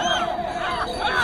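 A crowd at a bullock race shouts and cheers, a brief burst of overlapping raised voices at moderate distance.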